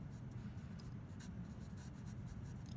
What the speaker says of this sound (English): now you can write anywhere on your background little notes to yourself